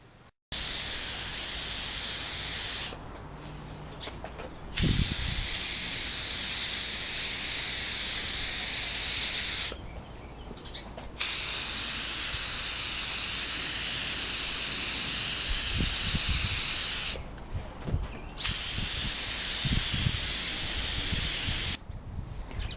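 A spray gun lays a tack coat of 5-star clear over Rustoleum paint in several long, steady hissing bursts separated by short pauses, close and loud with no voices.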